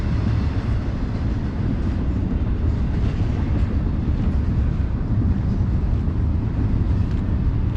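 A long freight train rumbles steadily past, a continuous heavy low roar of rolling cars with no breaks, close by and loud throughout.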